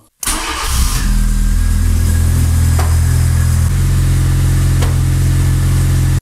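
An Abarth's engine cranks and fires up after a brief silence, then settles into a loud, steady idle with a deep rumble that drops slightly in pitch partway through.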